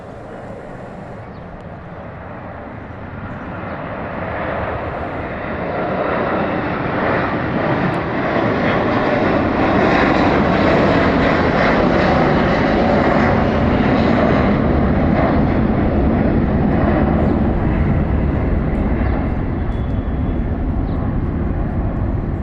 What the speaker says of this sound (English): उडे उडे Turkish air.